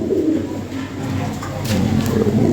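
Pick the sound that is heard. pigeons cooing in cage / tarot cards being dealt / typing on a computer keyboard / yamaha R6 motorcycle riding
pigeons cooing in cage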